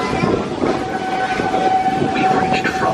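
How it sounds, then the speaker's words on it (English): Disney World Railroad steam locomotive rolling steadily along the track, a continuous rumbling chug with a faint sustained whistle tone running through it, close and fairly loud without pause. "This old locomotive is descended from the mighty trains that powered the golden age of steam."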